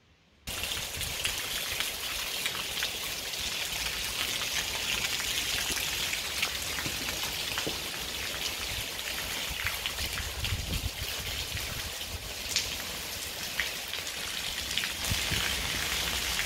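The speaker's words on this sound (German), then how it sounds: "klopft das Unwetter an unser Haus" Heavy rain from a storm pours steadily around a house, a dense, unbroken hiss and patter with no voices throughout.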